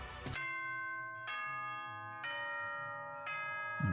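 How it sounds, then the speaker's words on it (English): Four sustained chime bells ring in slow succession in Danganronpa: Trigger Happy Havoc, each tone clear and ringing with no voices over it. "The 4 bells."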